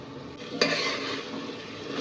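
Paneer and chopped coriander stirred in a biryani pot, a steady close sizzle and scrape of frying with a brief clink near the start, no voices.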